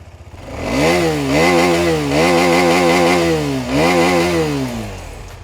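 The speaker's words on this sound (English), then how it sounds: "side hung single barrel exhaust. Let's check out how it sounds." A 2021 KTM 250 Adventure single-cylinder engine revs repeatedly through its side-hung single-barrel exhaust, rising and falling in pitch across three or four throttle blips, loud and close.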